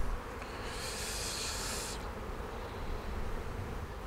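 Honeybees swarm and hum densely around an opened Segeberger hive box during a July inspection, a steady close buzzing that swells into a brighter hiss midway before settling back.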